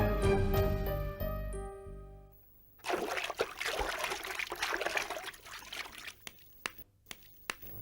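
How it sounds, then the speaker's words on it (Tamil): Water splashes and trickles in an uneven stream while a vehicle is washed, following a fading musical passage, with a few sharp drips and knocks toward the end. "வண்டியை கழுவிட்டு இருக்கமா?"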